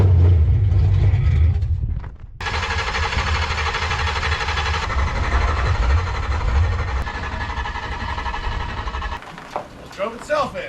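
An LS-swapped budget G-body car engine fires up and settles into a loud, rough idle that runs steadily for most of the stretch, with people shouting and talking over it before it cuts out near the end.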